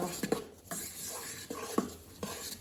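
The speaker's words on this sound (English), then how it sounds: "I just do like 1 spoonful of it. Like a soup spoon or a cereal spoon. And I just stir that in" A spoon stirring seasoning into gumbo in a pot, several soft scrapes and light knocks against the pot at an irregular pace, close by, with no talking.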